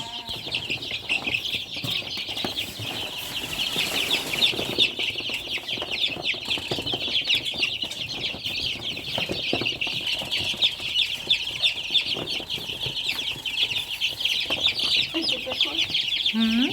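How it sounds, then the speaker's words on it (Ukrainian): Bantam chickens cluck and chatter continuously close by, a busy flock with steady high-pitched clucking throughout and faint voices in the background. "Тут з корівками проживатимуть курчата, які приїхали з Черніців разом з карликовими курочками"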